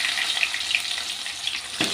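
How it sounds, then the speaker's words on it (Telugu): Okra pieces and thinly sliced onions fry in a pan over a medium flame, giving a steady close sizzle for about two seconds with a brief stirring scrape near the end. "ఇలా దూరగా ఫ్రై అయ్యాక స్టవ్ అనేది మీడియం ఫ్లేమ్లో ఉంచుకొని ఇలా కలుపుకోవాలి."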